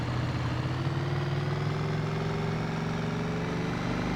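A Horex VR6 Black Edition six-cylinder motorcycle engine rumbles at low revs in second gear, a steady deep throbbing drone held close and loud without any talking.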